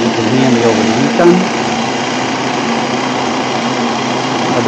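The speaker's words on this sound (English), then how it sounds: "Hopefully you can hear me over the heat gun." A heat gun blows on a tennis racquet grip during regripping, a loud, steady, close whirring hum that holds throughout.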